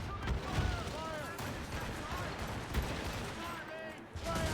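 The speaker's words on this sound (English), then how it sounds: "They are firing a volley!" Warships firing cannon volleys in Assassin's Creed Rogue: repeated booming shots at sea, mixed with crew shouts and whistling projectiles, sustained and moderately loud.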